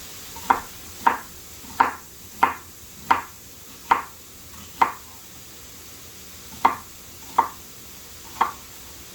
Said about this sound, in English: now I'm going to work on my zucchini and onions a little bit.